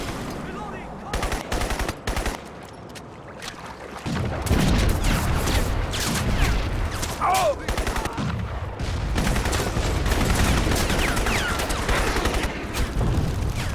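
Close, loud automatic gunfire in Crysis Warhead, from an inaccurate rifle with heavy recoil, rattles in repeated rapid bursts. The bursts grow denser midway while the battle carries on around them.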